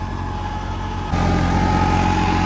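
A tractor engine drones steadily while pulling a superseeder through a paddy field, a loud, continuous mid-low hum that steps up in level partway through as the load or throttle increases.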